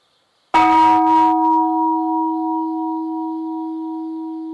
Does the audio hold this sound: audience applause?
no